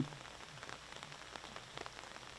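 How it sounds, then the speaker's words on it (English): Light rain patters steadily on a disc golf course, a soft, even hiss of drops on the surrounding surfaces with no voices. "It's starting to rain."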